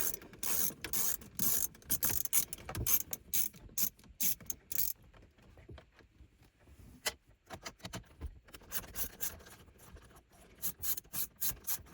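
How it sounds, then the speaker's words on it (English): A socket ratchet backs out 7mm screws on the heater control of a 1985 Chevrolet El Camino G-body, giving rapid clicking pawl bursts in repeated runs with brief pauses, close and clear with no talking. "these screws are 7mm. Let's pull them out."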